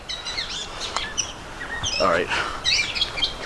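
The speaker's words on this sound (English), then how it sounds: "Beautiful birds singing." Birds sing and chirp along a pond trail in the Poconos, several bright calls overlapping at close to middle distance while someone speaks briefly.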